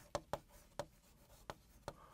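Chinese characters are handwritten in a lecture setting, producing faint, sharp strokes and taps at an uneven rhythm, about six of them, in a quiet room.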